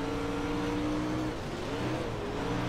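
A Pro Late Model race car drives in a racing video game, its engine a continuous humming drone that dips and rises in pitch mid-way, moderately quiet with no speech.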